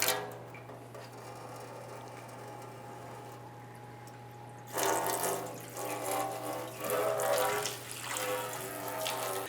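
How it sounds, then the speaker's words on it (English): Coolant drains from the radiator drain plug of a 2008-2013 Nissan Rogue into a drain pan, a close running trickle that starts quietly and then grows into a louder, uneven splashing pour. "Now with the radiator pretty much drained out"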